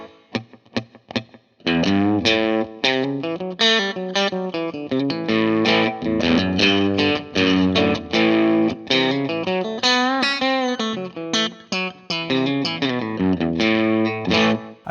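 An electric guitar with its push-pull pickup set to single coil plays a melodic phrase through reverb and delay, notes ringing and trailing into echoes; a few sparse plucks open before continuous, sustained playing fills the rest.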